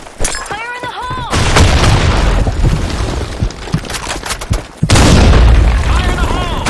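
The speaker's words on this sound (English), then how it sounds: "Fire in the hole!" A grenade explodes in a first-person shooter match on a desert Sand Storm map, loud booms and gunfire bursts crashing close amid shouted voices, with a heavy blast rumbling near the end.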